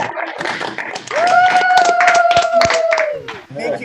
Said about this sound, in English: Can we give the teachers here in New York State a round of applause?